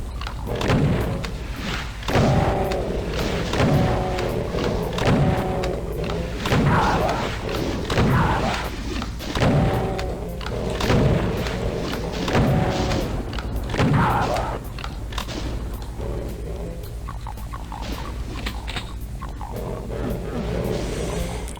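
A weapon repeatedly firing in the first-person shooter Doom 2, heavy booming blasts arriving in a fast, regular rhythm for the first fifteen seconds before thinning out, loud and dense, with no speech.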